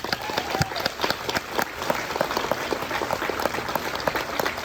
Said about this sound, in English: Give her another round of applause.